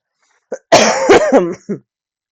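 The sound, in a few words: coughing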